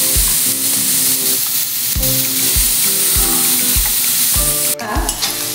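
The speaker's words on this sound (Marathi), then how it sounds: "कांदा छान सोनेरी रंगापर्यंत 1 ते 2 मिनिटाचा व्यवस्थित परतून घ्यायचा आहे आपल्याला" Chopped onion sautéing in hot tempering oil for gawar bhaji, a loud continuous sizzle broken by regular scraping stirs of a spatula against the pan, close up with no voices.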